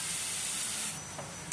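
Masala spice paste frying in a pan for paneer tikka masala, a steady bright sizzle and hiss that drops slightly partway through, close and alone without talk.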